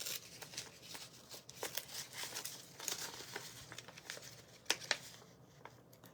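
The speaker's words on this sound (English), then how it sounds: "So let me tear this last one." A crafting piece torn and crinkled by hand, quiet and close, with irregular papery rustles and a couple of sharper rips near the end, and no speech.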